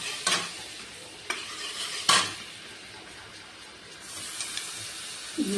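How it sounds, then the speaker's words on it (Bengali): Rice is fried in butter in a wok, with a soft, steady sizzle under three distinct scraping strokes of the spoon against the pan and a few lighter stirs near the end, with no talking. "আমি চালটাকে ভেজে নেব।"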